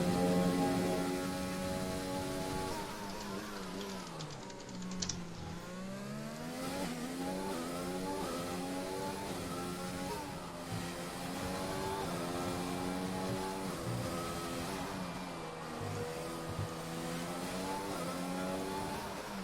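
Racing car engine in an esports racing video game, revving and shifting through gears continuously as the car runs a lap through a tunnel section, loud and steady throughout with rising and falling pitch.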